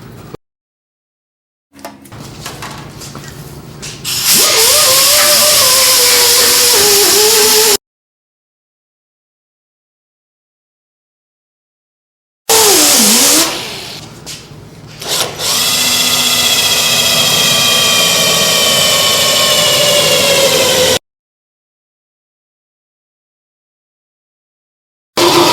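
A power cutting tool bites into the steel quarter panel of a Mustang, loud and close, in two long harsh runs with a rising whine, separated by silence.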